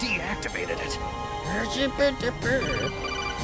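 Phone-like ringing tones from the Metal Gear Solid Twin Snakes video game, repeating in short bursts mixed with game music and a voice talking over it.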